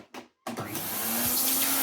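A Hoover Sensotronic Total System 20 vacuum cleaner, restored and fitted with a crevice tool, gives a short clunk and then starts up. It swells into a close, steady, rising whir with a sharp suction hiss.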